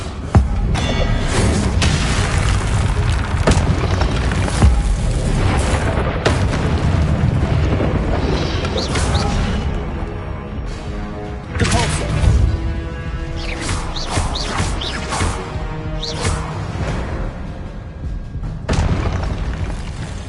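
Expelliarmus spell effects in Hogwarts Legacy, loud booming blasts and whooshing bursts layered over continuous dense game sound, with repeated sharp impacts throughout.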